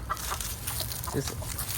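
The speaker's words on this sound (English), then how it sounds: "that's definitely a rooster and 2 hens" A Rhode Island Red rooster clucks in short bursts, fairly near, in a city backyard, with outdoor background noise and faint voices.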